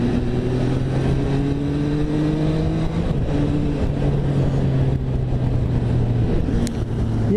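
MV Agusta Dragster 800 motorcycle engine revving under way on a first ride, a loud steady engine drone with shifting pitch lines as gears change, mixed with heavy wind buffeting throughout.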